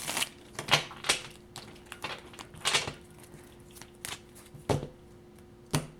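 Tarot cards shuffled by hand in a quiet room, with several separate bursts of riffling and slapping card noise spread across the stretch, each short and fairly close.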